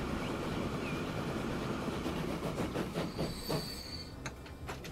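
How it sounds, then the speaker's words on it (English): A train running in the game Transport Fever 2, with rolling rail rumble, rhythmic wheel clicks and high metallic wheel squeals rising near the end, fairly loud and steady with no talk. "It is really, really a nice train."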